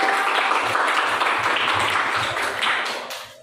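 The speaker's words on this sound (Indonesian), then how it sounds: "Pinter, tepuk tangan." Schoolchildren in a Javanese-language classroom clapping hands together, a dense burst of rhythmic applause that stays steady for a few seconds, then tapers off.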